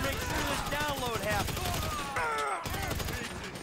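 Rapid bursts of gunfire in Grand Theft Auto 5 gameplay, dense and continuous under an excited voice talking over it.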